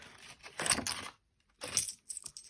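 Coins handled from a cash envelope of about £1.04 for food, giving two short bursts of light metallic clinking and rustling with a pause between, close and fairly quiet.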